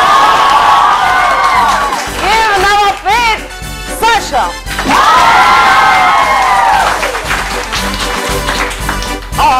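A children's audience on a TV game show bursts into loud cheering, shouting and applause in repeated waves, with an announcer's voice speaking over and between the cheers.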